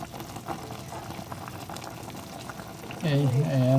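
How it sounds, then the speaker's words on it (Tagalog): Fish paksiw simmering in a pot with a little cooking oil, a continuous bubbling boil up close, with a sharper sizzle surging in near the end and a voice talking over it. "Tuloy-tuloy yung pagkulo niya."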